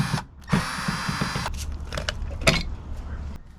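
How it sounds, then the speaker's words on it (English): A power tool whirs and ratchets while backing bolts out of the side of a Chevrolet Suburban during an LED light bar install, with short bursts and mechanical clicks at close range. "I'm going to go ahead and take the 4 bolts out on the side"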